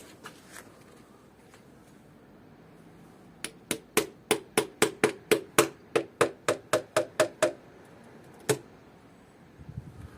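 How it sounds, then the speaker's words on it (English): A small screwdriver is struck with a hammer against a car cylinder head on an Opel Vauxhall 1.8 16v engine, giving a quick run of about fifteen sharp metallic taps in steady rhythm, then one more tap after a pause. "We can tap a little screwdriver."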